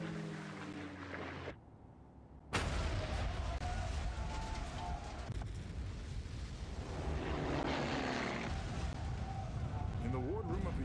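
World War II attack aircraft roar overhead in a sustained, loud drone with rumbling low end, briefly cut off then resuming, with tones and effects layered over it.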